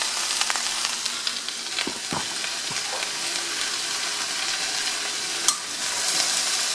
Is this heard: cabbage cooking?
yes